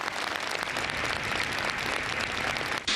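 A large gathered crowd bursts into sustained applause ending a minute of silence held after the Brussels attacks, thick continuous clapping that stays loud and even before a sharp cutoff near the end.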